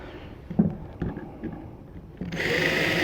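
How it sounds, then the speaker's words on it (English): A power drill driving screws into a wooden box: a few short knocks and taps first, then the drill starts and whirs steadily and loudly at close range to the end. "Put our screws in."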